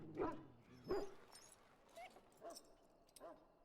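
Dog in the video game Dragon Age giving a few short barks and yips, then softer whimpering whines, spaced out and fairly close with quiet pauses between.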